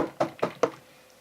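Three loud, evenly spaced knocks, close and sharp, imitate a hard rap on a window, then silence follows.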